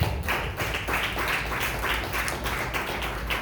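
A church congregation claps together in a steady, rhythmic burst during a Spanish-language service, the hand claps dense and continuous at moderate distance with no voices over them.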